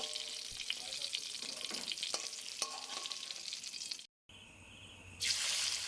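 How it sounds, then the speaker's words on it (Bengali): Two hilsa fish heads fry in hot oil in a pan, giving a steady, close sizzle with light stirring clinks. The sizzle cuts out briefly, then returns louder. "ভাজা তেলের মধ্যে দুটি ইলিশ মাছের মাথা দিয়ে ভেজে নেব।"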